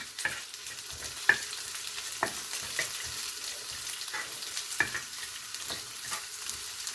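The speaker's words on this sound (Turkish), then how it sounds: "Güzelce soteleyeceğiz." Chopped onion and red capia pepper sauté in a hot pan, giving a continuous soft sizzle broken by scraping stirs and occasional light clinks.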